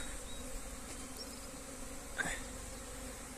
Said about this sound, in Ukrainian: Тут так, тут так літають. Ну і так ціла пасіка.